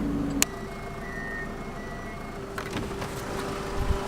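A truck's reversing alarm beeps steadily under low engine rumble, with a sharp knock early on and a few clatters near the end.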